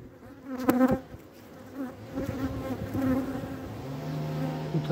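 Honey bees from an opened beehive, checked in February for honey stores, buzz steadily and close by, with a dense drone carrying throughout and a few louder swells as bees pass near.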